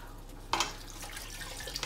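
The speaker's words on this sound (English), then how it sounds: "I'm just adding the water in a little bit at a time. And we're making a gravy." Water is poured a little at a time into a pan to make gravy for smothered chicken. A sudden splash is followed by a steady, soft stream that runs close by for under two seconds, with no voices.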